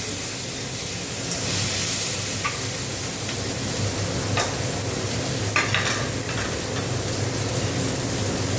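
Tomatoes fry with salt in a hot pan, giving a steady close sizzle with occasional stirring scrapes over about eight seconds.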